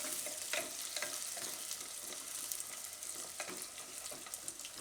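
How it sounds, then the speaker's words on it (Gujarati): Pieces of elephant foot yam being stir-fried in oil for khichdi, a soft continuous sizzle with scattered crackles and scraping stirs, moderately faint and steady throughout with no voices. "થોડીક વાર આને તેલમાં આપણે ફેરવી લેવું"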